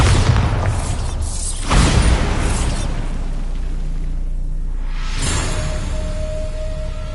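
The Bombarda explosion spell in Hogwarts Legacy, a loud, deep blast that booms and then rumbles away, followed by a second whooshing burst a few seconds later, both heavy and close.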